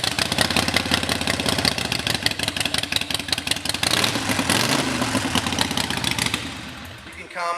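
A 2011 Harley-Davidson Sportster SuperLow engine idles with a rapid, lumpy pulse, briefly revving before settling; someone talks over it.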